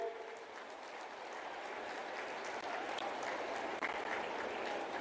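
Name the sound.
audience applause welcoming the prime minister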